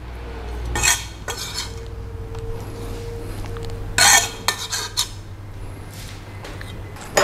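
Candlenuts being mixed into a Balinese BBQ spice paste for grilled tuna, with several sharp utensil clinks and scrapes against a bowl at intervals over a quiet kitchen hum.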